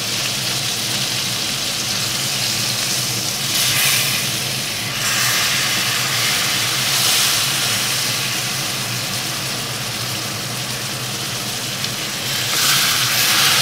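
A pork chop fries in a hot pan, a loud, steady hissing sizzle that holds for the whole stretch with only slight swells in intensity and no talking.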